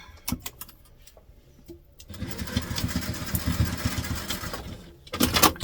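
Home sewing machine stitching across a fabric travel tote bag, a steady fast mechanical whir running for about three seconds after a few light clicks, with a brief louder burst near the end.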